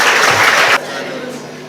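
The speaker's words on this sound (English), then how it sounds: "Please let's give a round of applause to our Honorable Evelyn Anite" A school audience at Our Lady of Africa S.S Namilyango applauds Hon. Evelyn Anite, with loud, dense clapping that stops abruptly partway through, leaving a quieter hum of room noise.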